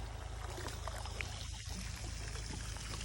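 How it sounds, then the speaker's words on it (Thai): Water from a newly installed submersible pump in a 100-metre borehole, pumped for the first time, pours steadily into a pond, a constant rushing splash with no talking. "เปิดน้ำทิ้งลงสระนะคะ น้ำออกค่ะ"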